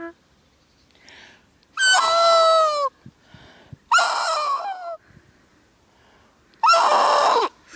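A person's voice imitates a bird's shriek: three loud, drawn-out, shrill cries, close by, separated by short quiet gaps.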